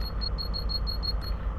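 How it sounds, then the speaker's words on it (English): Repeated short electronic buzzer tones from a guard's door buzzer in an HST cab in Train Sim World 3, pulsing steadily in quick succession over a constant low engine rumble. "You've got the buzzer."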